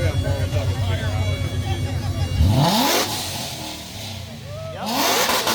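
A Nissan 240SX engine revs hard through a loud exhaust, rising in a steep sweep then dropping away before a second rev climbs again, close and loud.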